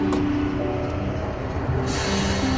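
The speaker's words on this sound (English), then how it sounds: "From outside came the sounds of hissing steam and squeaking metal." Steam train standing outside at night, a continuous loud rumble with hissing steam and thin squeaks and squeals of metal over it.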